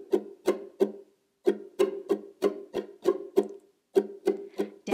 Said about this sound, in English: it's a syncopated strumming pattern